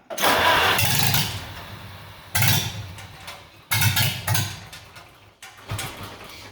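A Farmall H tractor with a freshly rebuilt carburetor is cranked in several separate bursts, each a churning starter-and-engine roar that fades before the next attempt, close by.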